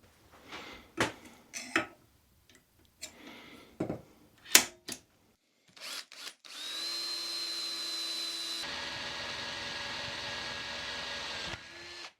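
Several holes drilled into bare steel hooks for hanging planters: a run of sharp metallic taps and clatters, then a steady loud power-drill whine that holds for several seconds before stopping abruptly.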